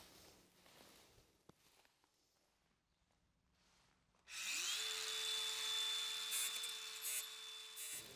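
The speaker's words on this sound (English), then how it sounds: "use the grinder to snip through it" A grinder spins up sharply partway through and bites into a plastic geogrid on an underfloor heating job, holding a loud, steady whine with a high tonal edge after a quiet stretch of faint shuffling.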